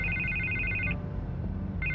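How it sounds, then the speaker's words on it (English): A telephone in Batman: The Telltale Series rings in a bright electronic trill, one long burst, then a pause, then the next ring begins, fairly quiet and clear with no voices. "I can't get the phone to stop ringing"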